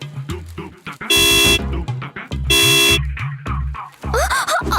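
A vehicle horn gives two loud, sustained blasts about a second apart, with voices talking between and after them.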